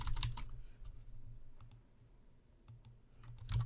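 Someone types a short command on a computer keyboard at a terminal: a quick burst of soft clicking keystrokes, then a pause, then a few more taps, quiet and close.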